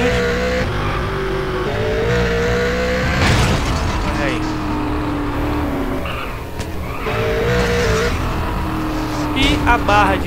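In GTA San Andreas, a car engine revs while tires squeal and skid, broken by a few heavy impact bursts as the vehicle crashes, loud and close, with someone talking over it.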